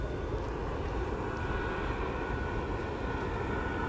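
Low-flying airplanes near Antalya, Turkey, make a loud, steady jet roar that fills the whole stretch without breaks, sounding close and continuous at night.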